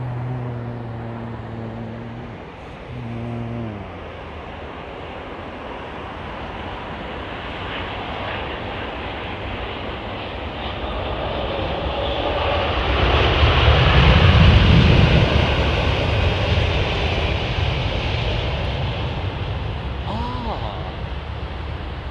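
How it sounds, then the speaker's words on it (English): An Airbus A350 XWB engine starting up at London Heathrow makes a low, distant roar that slowly builds and swells to a broad whine before easing off, with a voice talking near the start. "Such a sort of like a low, distant sound of the A350. XWB startup."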